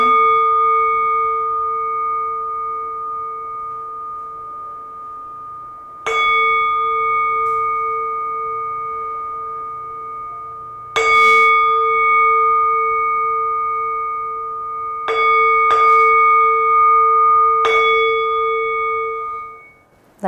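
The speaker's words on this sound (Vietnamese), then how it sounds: "khi tứ lễ xong thì đến cuối cùng là đánh ba tiếng chuông" Three resonant strikes on a ritual bell close a Buddhist memorial ceremony, each ringing out with a sharp attack and a long sustained hum, the second and third coming in a closer pair after a long first decay.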